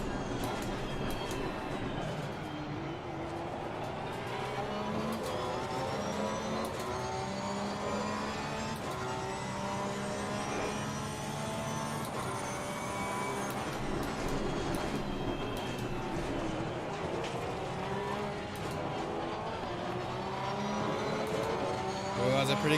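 Porsche race car engine in the video game Assetto Corsa Competizione during practice at Zolder, a continuous high, shifting engine whine with gear-change sweeps, steady and loud throughout, with someone talking over it.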